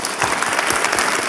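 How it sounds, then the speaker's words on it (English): A lecture audience gives a dense, sustained round of clapping, loud and continuous across the whole stretch without any speech. "Can we please give Mr. Melford another round of applause?"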